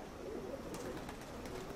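Pigeons cooing outdoors at a loft during daily flights, soft repeated low coos over faint background noise, distant and quiet.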